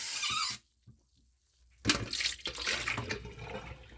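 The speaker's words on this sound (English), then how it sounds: "Now I'm just going to give my bowl a little rinse to rinse all the little salt particles off that was in here." Tap water runs into a bowl to rinse off leftover salt while making sea moss gel, a loud rushing stream at the start, then a pause, then the running water returns and carries on steadily to the end.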